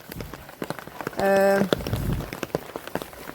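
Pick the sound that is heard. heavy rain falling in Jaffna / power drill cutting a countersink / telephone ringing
heavy rain falling in Jaffna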